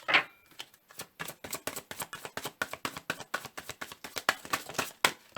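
Rapid, evenly spaced flicking and tapping as tarot cards are shuffled, a crisp run of small snaps close by with no talking.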